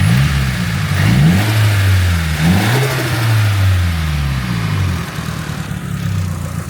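A Nissan SR20DET engine idles, then revs up and down several times in quick throttle blips, each rise and fall clearly audible, loud and close with no talking.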